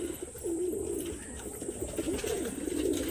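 Pigeons coo softly and repeatedly while they eat at a loft with mixed breeds. The low calls overlap at moderate distance against a steady background hiss, and no voices are heard.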